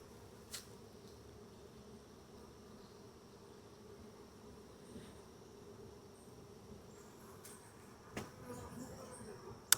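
Honeybees buzz around an open hive during a honey harvest, a soft, steady hum of many insects close by, with a few faint knocks and handling noises near the end.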